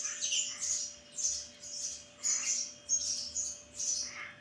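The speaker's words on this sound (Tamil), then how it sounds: "குருவி குஞ்சு பறிச்சிருக்கு, அதை சவுண்டு கேட்குறீங்களா?" Small birds, apparently sparrows around a nest with a chick, give a run of high, thin squawking chirps in short repeated bursts, close by and fairly soft, with no talking.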